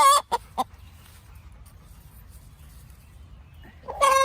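Broody chicken hen sitting on a clutch of unfertilized eggs, giving a few low guttural clucks at the start and a louder burst at the end, with quiet background hum in between.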